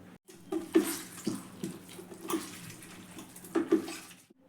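Tap water running intermittently while minced mutton keema is washed and squeezed by hand in a kitchen, with splashy bursts and short pauses, close and fairly loud, no talking.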